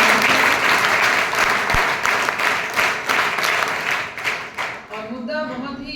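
An audience claps loudly and continuously to welcome a college principal at an NCC workshop event, the applause sustained before thinning out near the end as voices start to come through.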